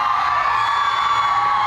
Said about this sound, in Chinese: 群众尖叫，驻足等待